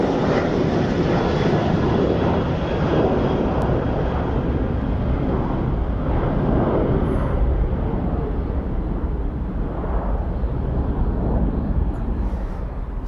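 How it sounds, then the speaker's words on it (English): An aircraft passing near Birmingham Airport, a loud continuous roar of jet engine noise that stays strong throughout and slowly fades at the end. "after an aircraft goes past your house"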